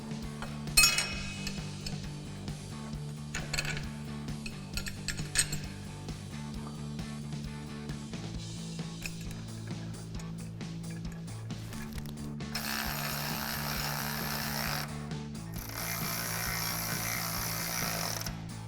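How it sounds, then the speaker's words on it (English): A 14mm wrench ratchets 6mm Allen bolts through the axle into a bump stop flat plate on a Jeep Wrangler JL during a Teraflex coil spring lift install. Repeated metallic clicks and clinks ride over a steady low hum, with longer stretches of brighter ratcheting later on. "We're going to use our supplied 6mm Allen bolts and our 14mm wrench and install it"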